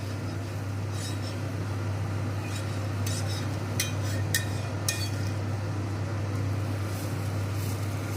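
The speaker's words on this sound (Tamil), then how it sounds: "தோசை கல்லில் ஒன்று ஊற்றியிருக்கேன், எடுத்துடுறேன்." A metal spatula scrapes and taps a few times as a dosa is lifted off a hot griddle, short faint clicks over a steady low hum in a home kitchen.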